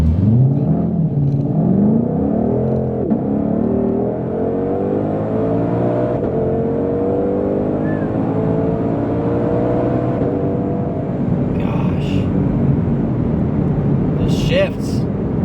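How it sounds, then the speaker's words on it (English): A supercharged 2020 Shelby GT500 engine accelerating hard, loud and close, its revs climbing and dropping through gear changes with a whine layered over the deep roar. "the supercharger itself, the whistling of the air, or those cylinders hounding away as I command more power out of this thing"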